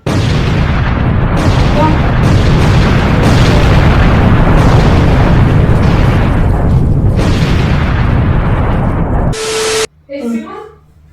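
Dense, continuous booming and crackling bursts of explosions fill the background for several seconds, loud and rumbling, then cut off abruptly into a brief spoken reply.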